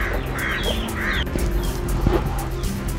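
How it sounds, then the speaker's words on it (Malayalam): Turkey chicks calling on a farm plot with grass cultivation, thin rising peeps and short honking cries repeated several times over a steady low background hum, with no talking. "ഇത് ഇതിൽ ടർക്കിയുടെ കുഞ്ഞുങ്ങളാണ്"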